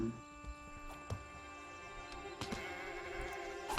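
Sheep bleat a few times in the video game SkySaga over a steady electronic hum and game ambience, short faint calls spaced across a few seconds.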